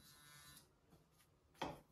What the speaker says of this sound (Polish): Szczoteczka oczywiście działa.